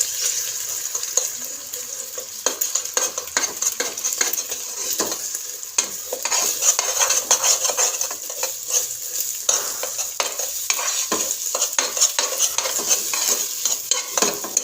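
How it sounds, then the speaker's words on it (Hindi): Two eggs frying in oil in a pot while being stirred and broken up, a steady close sizzle with frequent scraping and clinking of a utensil against metal throughout. "1 देचकी में मैंने थोड़ा सा ऑयल लिया और ये 2 अदद अंडे हम इधर ही डाल देंगे।"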